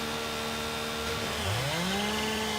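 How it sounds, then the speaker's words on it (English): Chainsaw cutting wood at an old sawmill in the video game Farming Simulator 19: a steady droning engine whose pitch climbs as the cut bites, continuous and fairly loud, with no talking. "We just hold the chainsaw function in there."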